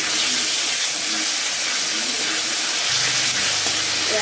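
Ginger and cumin paste tempering in hot oil makes a dense, even hiss and sizzle that stays loud and constant from start to finish, with no talk.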